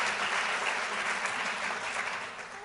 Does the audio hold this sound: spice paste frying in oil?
no